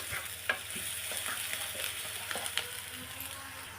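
Onions being stirred and fried in a pan for mutton fry, steady soft sizzle with scraping spoon strokes and a couple of sharper clinks against the pan, close and continuous, no talking.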